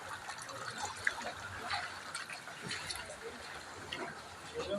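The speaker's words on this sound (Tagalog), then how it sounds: "malakas yung baha dito guys" Strong floodwater flowing and rushing through a flooded home, a steady, dense wash of water sound at moderate distance, continuous with no clear talk.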